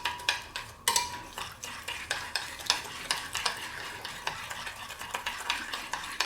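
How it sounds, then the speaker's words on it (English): A spoon stirs thick barbecue sauce for Chinese barbecued pork in a pan, a steady run of close scraping and clinking strokes with a faint sizzle underneath, no voices. "And then we'll just stir all of this in."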